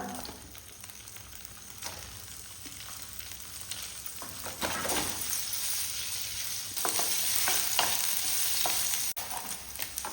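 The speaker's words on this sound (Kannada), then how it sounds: "ತುಪ್ಪ ಎಣ್ಣೆ ಬಿಸಿ ಆದಮೇಲೆ ಪನ್ನೀರನ್ನು ಸ್ವಲ್ಪ ಫ್ರೈ ಮಾಡುವ" Paneer fries in a pan of hot ghee and oil, a continuous close sizzle that swells and crackles as pieces are stirred and moved around.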